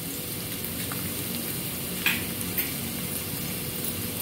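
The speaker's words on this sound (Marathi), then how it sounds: "हे छान आपण जरा असं तेलामध्ये परतून घेऊया" Turmeric and spices sautéing in hot oil for dal palak, a steady soft sizzle with a couple of faint stirring clinks, no voices.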